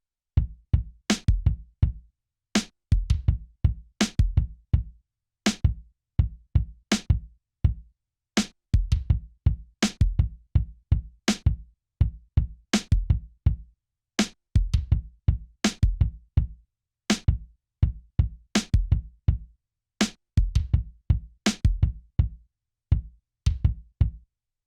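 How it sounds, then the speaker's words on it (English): A sampled snare drum with layered hits plays a repeating drum rhythm: sharp, bright, closely miked cracks in steady groups of quick strikes, with short gaps between phrases and no voices. "So now I'm gonna show you how the snare drum sounds in the drum rhythm."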